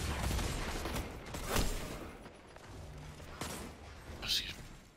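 Hand cannon gunfire in Destiny 2, scattered shots and bursts over continuous game noise and a talking player.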